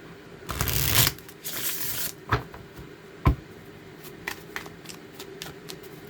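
Tarot cards shuffled by hand, a dense riffling burst followed by softer scattered card taps and slides, close and moderately loud, no talking.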